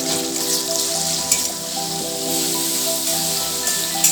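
Onion paste sizzles and spatters in hot oil in a pan, a dense, loud, continuous frying hiss with a faint tonal hum underneath.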